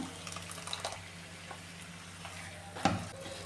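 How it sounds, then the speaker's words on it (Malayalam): Ground coconut paste goes into a pan of chicken curry and is stirred in, giving a quiet sizzle with soft stirring scrapes and one sharper clink of a utensil near the end. "ഇനി അരച്ചു വെച്ചിരിക്കുന്ന തേങ്ങ അതും കൂടെ ചേർത്ത് കൊടുക്കുകയാണ്"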